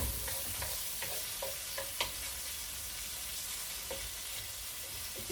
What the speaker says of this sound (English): Stir it around, just make sure it's getting nice and crispy.